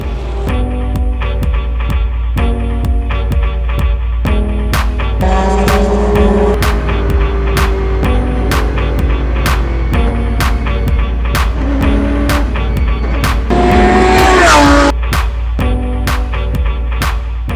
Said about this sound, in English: So the Audi's actually already caught up on the tail of the McLaren.